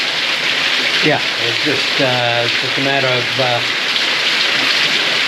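Steady heavy rain hisses throughout while hiking the Camino Invierno from Ponferrada to Santiago, on about the fifth or sixth straight wet day, with someone talking close over the downpour.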